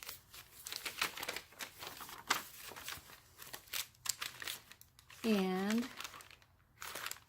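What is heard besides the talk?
crinkling glassine bag and pink paper from junk journal kit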